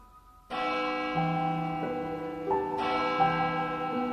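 A bell rings steadily during a school drama club stage performance of Macbeth, a sustained ringing tone that swells and shifts pitch over a few seconds with no voices over it.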